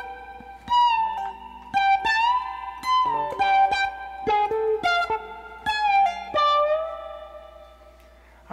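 Electric guitar plays a phrase from a song, a run of clean plucked notes with whole-step string bends and sustained tones, played alone and up close.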